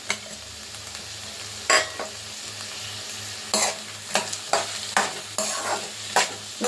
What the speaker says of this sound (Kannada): ಇದನ್ನ ಈರುಳ್ಳಿ ಚೆನ್ನಾಗಿ ಫ್ರೈ ಆಗೋವರೆಗೂ ಫ್ರೈ ಮಾಡಬೇಕು